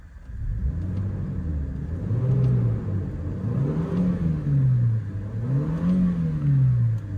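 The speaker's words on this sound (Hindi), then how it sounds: "डीजल इंजन की तरह जो ये रोड तो नहीं करती एंड थोड़ा रेव भी कर देता हूँ" A 2024 Toyota Fortuner diesel SUV engine revs up and down repeatedly, three or four rising and falling surges over a low idling rumble, close and fairly loud.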